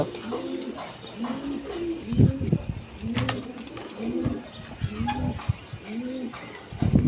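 Pigeons offered for sale at wholesale prices, a cock and hen pair among them, coo in steady repeated low phrases nearby, with scattered thumps and rustles between calls.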